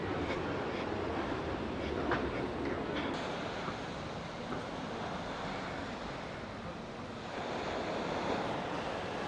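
Ocean waves wash onto the beach at Nerja, Spain, a steady, moderately loud roar of surf that continues throughout with no break.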